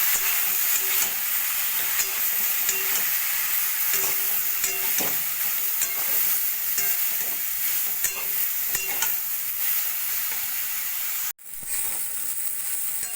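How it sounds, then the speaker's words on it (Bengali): Broccoli coated in cornflour sizzles in hot oil in a wok as it is stirred, a loud, continuous close hiss with faint scraping. It cuts off briefly near the end, then the sizzle resumes. "ব্রোকলিগুলো কর্নফ্লাওয়ার দিয়ে 2-3 মিনিট মতো ভাজা ভাজা করে নিয়েছি"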